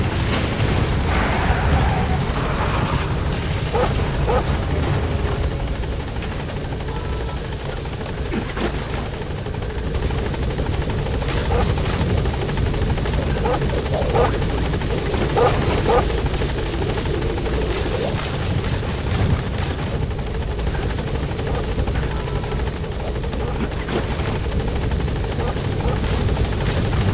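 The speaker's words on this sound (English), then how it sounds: "Helicopter has arrived." Helicopter in Metal Gear Solid V: The Phantom Pain arriving, a steady loud rotor drone filling the whole stretch with a few brief clunks and faint voice fragments over it.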